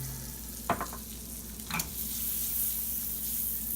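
Peppers frying in butter in a pan over lowered heat give a steady, close sizzling hiss that swells after a couple of quick utensil clinks early on, with no talking.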